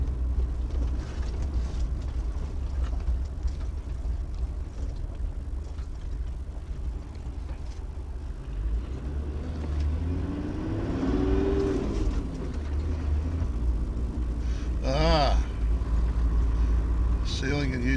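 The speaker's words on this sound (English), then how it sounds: "I might just let this car behind me go past." A car overtakes from behind on a road-trip drive past a section of road being sealed, its engine whir and tyre rumble swelling and receding under the steady in-car drone.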